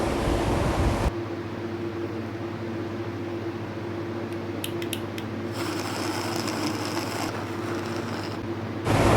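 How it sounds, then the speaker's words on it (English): A blender blending a mango milkshake whirs in a steady, even motor drone at close range, starting abruptly and running for several seconds before cutting off. "Close the lid of the blender and blend it well."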